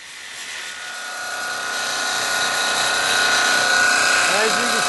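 An angle grinder taking weld material off a stainless steel boat propeller: a loud, continuous high-pitched whine that grows steadily heavier as it bites, with a voice faintly under it.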